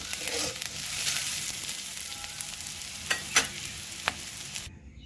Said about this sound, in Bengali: পেঁয়াজটা দেখো ভাজা হয়ে গেছে, তুলে নেব